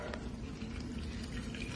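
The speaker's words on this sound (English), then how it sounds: "we're going to add water." Water being poured in to make walnut milk, giving a steady broadband pouring and splashing wash that runs evenly from start to end, close and moderately loud, with no talk over it.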